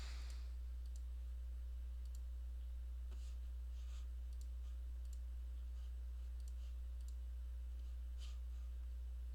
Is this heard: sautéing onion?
no